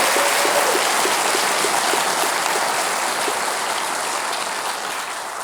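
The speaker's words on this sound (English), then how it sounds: "a quick round of applause for our panelists" An audience gives panelists at a panel discussion a round of applause, dense, steady clapping that fills the room and tapers slightly toward the end.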